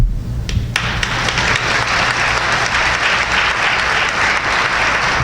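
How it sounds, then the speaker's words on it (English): Audience applause at a 2003 panel talk on the JFK assassination: a steady, dense wash of clapping from a crowd that holds evenly loud for the whole stretch. "you can answer with your applause or whatever"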